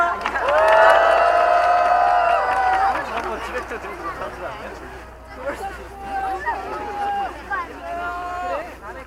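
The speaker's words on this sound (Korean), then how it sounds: "박수와 함성으로 맞이해 주십시오." A crowd at a large political rally in Gwanghwamun, Seoul, cheers and shouts over scattered clapping, loudest at the start and tapering slightly, with several voices rising in whoops.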